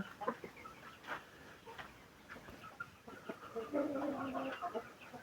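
Chickens cluck softly at close range, scattered short calls over a quiet background, with one longer clucking phrase near the end.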